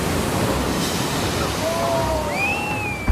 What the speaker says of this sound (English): he notices a set of unusually large waves heading toward a small group of picture takers